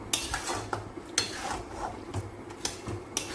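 Mung lentils being stirred into milk in a pot, a spoon scraping and tapping against the sides in quick irregular strokes, close and fairly soft, no talking.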